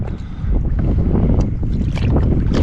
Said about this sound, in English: That wind pushing in just seems to be doing the trick.